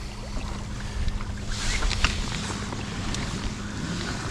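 A fishing boat motoring home from the ocean, a steady low engine drone with water rush and wind buffeting the microphone, continuous and fairly loud, no voices.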